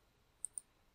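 Two crisp computer mouse clicks spaced about a tenth of a second apart while working in Revit, close and faint over a quiet room.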